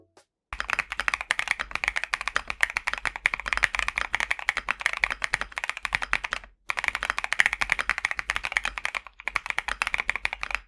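Rapid, steady clatter of typing on a mechanical keyboard with a futuristic design and an LED bar on the back, fairly close and continuous, broken by two brief pauses, with no voices.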